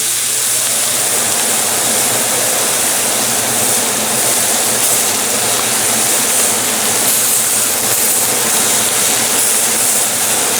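A kitchen exhaust fan runs over a blackened NY strip steak searing in the pan, making a steady, loud, even hiss with no pauses.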